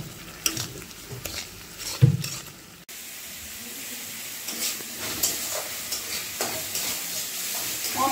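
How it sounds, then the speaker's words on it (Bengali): Spatula scrapes and stirs ground Kashmiri chilli, coriander and turmeric with salt in a frying pan, a few clattering strokes followed by a soft continuous sizzle with intermittent stirring. "এবার সব কিছু একটু নাড়িয়ে নেব।"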